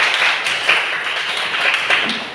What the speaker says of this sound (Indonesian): tepuk tangan buat Elektrik